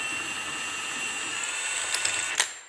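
Clamshell bearing puller being tightened to pull a bearing off, a steady mechanical whine with faint clicks near the end and a small knock as it comes free.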